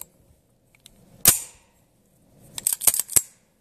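A 1911 pistol is handled while being checked for emptiness: one sharp metallic snap, a pause, then a quick cluster of clicks and clacks from the slide and parts, close and crisp.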